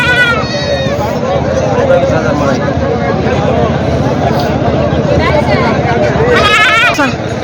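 Goats and sheep bleat repeatedly at the Khandoba livestock market in Parbhani, with sharp calls near the start and again near the end over constant crowd babble and nearby talking.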